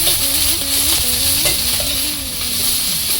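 Capsicum and other vegetables fry in a pan while being stirred, giving a loud, close sizzle broken by scraping stirring strokes, with no voices.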